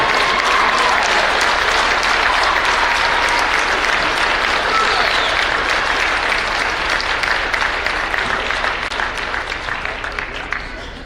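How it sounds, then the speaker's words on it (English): A crowd in a high school boys' basketball gym applauds steadily during a ceremony honoring a longtime figure, dense continuous clapping that holds loud for about eleven seconds and tapers slightly at the end. "please stand and let's welcome back with a warm round of applause the man of history for 40 years, Kevin Everhart."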